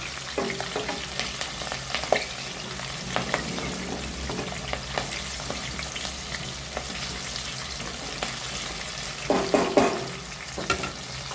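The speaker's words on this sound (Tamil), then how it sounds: "பச்சை மிளகாவும் பூண்டும் வெந்து வரட்டும்" Green chillies and garlic frying in hot oil, a steady soft sizzle with scattered crackles and occasional stirring scrapes, fairly quiet and close, with no talk.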